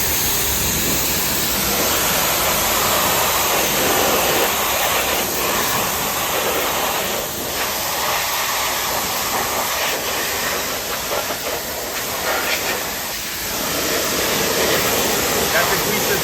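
A pressure washer blasts degreaser off a Daihatsu Mira, a loud, continuous close-up hiss of spraying water with small shifts in intensity as the stream moves across the car.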